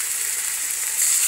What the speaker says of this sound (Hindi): यहाँ पर मैं दूसरा तड़का चढ़ा दिया